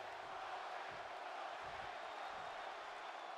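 A wrestling crowd at an IPW Primetime show roars in a steady, distant wash of cheering that holds from start to finish, with scattered whoops and no clear single voices.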